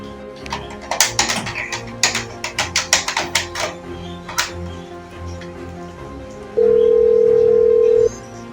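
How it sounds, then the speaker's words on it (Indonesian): A telephone call is placed, with a rapid series of dial or keypad clicks followed by a steady, loud dial tone lasting over a second, against a quiet room background. "Sebaiknya saya telepon Bung Karno terlebih dahulu."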